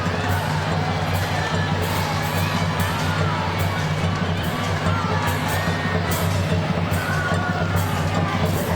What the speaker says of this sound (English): Crowd trying to get behind this Washington Spirit team.